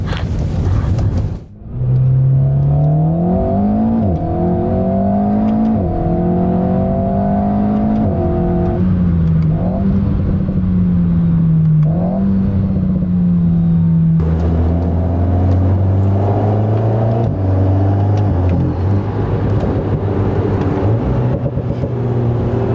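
An Alpine A110 S with a mid-rear 1.8-litre engine accelerates hard on a track, rising through the revs in repeated pulls with gear changes, loud and close, with no talk.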